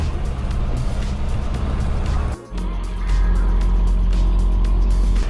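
A Ford F450 truck idles and revs with a steady low engine drone while pulling a trailer past a fence post at a ranch entrance, the rumble swelling louder after a brief dip midway.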